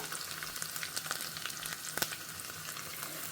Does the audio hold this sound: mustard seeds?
yes